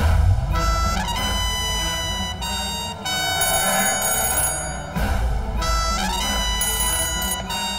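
A telephone rings loudly and alone in repeated bright electronic bursts, several rings in steady rhythm with short gaps between them.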